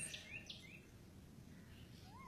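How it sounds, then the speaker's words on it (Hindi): Faint, sparse bird chirps and tweets in the morning over quiet background hiss, a few short calls scattered through. "चिड़ियां घोंसलों से निकल रही हैं"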